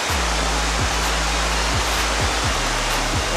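Steady, loud rush of a waterfall at Solkok Falls in Vintar, Ilocos Norte, a continuous broadband roar close by with no voices over it.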